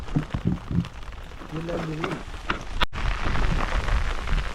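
Heavy rain begins falling beside a river during net fishing, a dense steady hiss that swells louder and fuller partway through, with a few brief voices early on.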